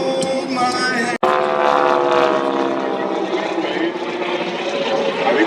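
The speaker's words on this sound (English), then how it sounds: "Flying that plane is Mr. Thomas Sharkey." A Blue Angels jet flying at the Arctic Thunder airshow, a loud continuous engine roar with shifting tone as the aircraft passes, while an announcer talks over it.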